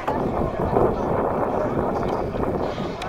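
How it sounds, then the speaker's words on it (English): Steady outdoor wind buffeting the microphone at a backyard birthday party, a dense continuous rumble running the full length with no breaks and faint crowd murmur beneath. "It's a little windy out, so."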